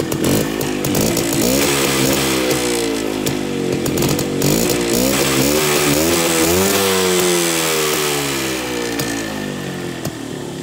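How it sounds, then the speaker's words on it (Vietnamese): A Minsk two-stroke motorcycle engine is revved up and down in loud, close, continuous cycles, its buzzing, crackly note rising and falling in pitch with no talking. "Nghe tiếng máy nổ cực kỳ giòn tai luôn các bạn."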